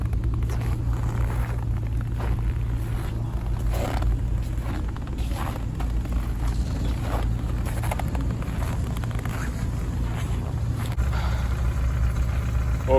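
An Opel Vectra with a petrol and gas setup and manual gearbox idles at an outdoor car market, a steady low rumble with faint mechanical creaks running throughout, with no speech over it.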